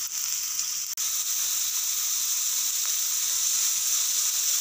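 Finely chopped large onions sizzling steadily in hot oil, a bright continuous hiss held at an even level throughout, with one brief clatter near the start.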